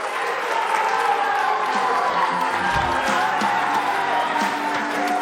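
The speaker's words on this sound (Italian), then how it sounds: "Il tifo non manca, Davide," Football supporters of a youth sports club in Italy cheer and chant as a continuous crowd roar, loud and steady throughout, with scattered shouts and whoops rising from the mass of voices.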